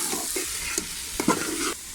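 Carrot barfi mixture is stirred in ghee in a pan, a spoon scraping and pushing the thick mass in several short strokes over a soft continuous sizzle.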